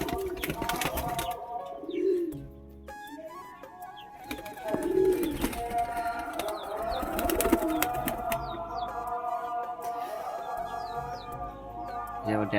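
Pigeons after a bath in hot weather, cooing and calling close by, with a few chirps and bursts of movement throughout.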